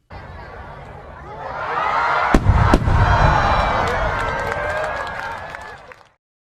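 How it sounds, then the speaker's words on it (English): Fireworks with a chlorate oxidizer go off in two sharp, loud booms in quick succession, amid a broad, continuous roar and crackle that fills the whole stretch before cutting off abruptly. "as the container explodes, it creates a loud, ear-splitting boom"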